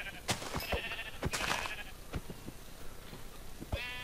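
Sheep in the Minecraft video game bleat in short, repeated calls over scattered game sounds and clicks, with no speech.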